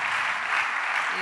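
A church congregation applauds to acclaim the Lord, a brief, dense burst of many hands clapping together.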